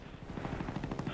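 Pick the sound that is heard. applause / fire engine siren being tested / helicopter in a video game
helicopter in a video game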